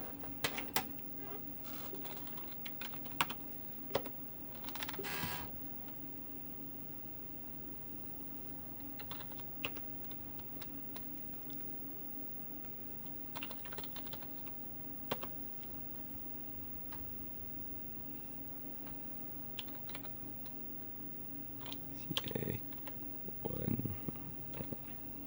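Keyboard keys on a retro 286 computer clatter in quick irregular bursts throughout, fairly close, over a steady electrical hum with occasional louder clicks.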